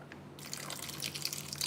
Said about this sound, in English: Let me get a touch more water.